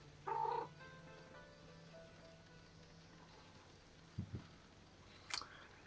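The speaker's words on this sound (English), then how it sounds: "My kitty came back to me." A cat calls out with a short meow, followed by faint sparse chirps and a brief high sound, all quiet and close against a low background hum.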